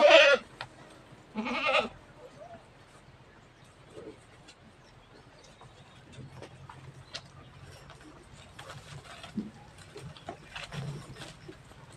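A goat gives two loud bleats close by, followed by quieter rustling and occasional faint bleats over a low background hum.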